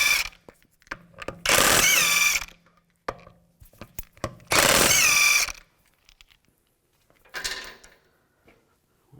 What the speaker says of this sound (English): use a 17mm socket. Take these lug studs out.